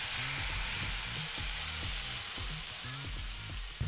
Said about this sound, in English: is it time to flip our steak over?